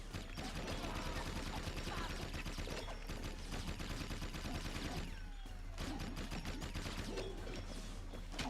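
Video game gunfire in Jak II crackles in dense bursts and rapid volleys throughout, steady and loud with little pause, mixed over constant game noise.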